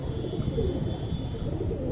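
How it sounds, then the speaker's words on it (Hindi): Cooing of a female Punjabi pigeon, a pure Punjab-bred chhatri-style bird, comes as soft low murmurs under steady background hum and a faint high whine. "भाई ये प्योर पंजाबी कबूतरी है"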